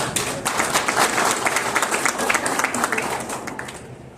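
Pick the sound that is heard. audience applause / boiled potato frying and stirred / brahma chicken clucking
audience applause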